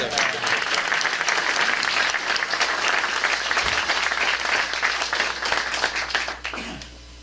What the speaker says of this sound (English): So if we can just give him one more round of applause